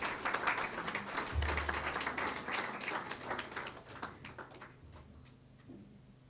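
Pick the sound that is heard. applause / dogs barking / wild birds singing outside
applause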